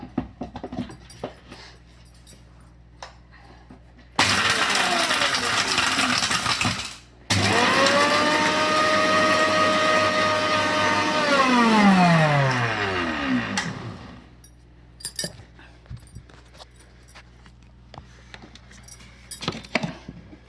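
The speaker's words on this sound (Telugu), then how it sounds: "ఒక్క నిమిషం మిక్సీ చేస్తున్నాను అన్నమాట." An electric mixer grinder grinds homemade kumkum powder with a loud, whining motor that runs for several seconds, stops briefly, restarts, then audibly winds down as the whine drops in pitch.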